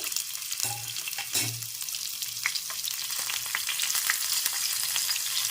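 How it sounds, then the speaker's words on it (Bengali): Onion frying lightly in oil in a wok for a small fish and radish curry, a steady close sizzle with occasional stirring clinks and scrapes, no voices. "এখন প্রথমেই পেঁয়াজটা একটু হালকা ভেজে নিতে হবে"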